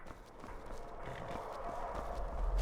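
A horse gallops in Skyrim, its hooves drumming in a fast, even rhythm up close that grows louder toward the end, with no talk over it.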